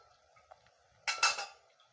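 Fried rava chakli are lifted from the oil with a slotted spoon: a faint tap, then a brief bright metallic clatter and scrape of the spoon against the pan, quiet otherwise.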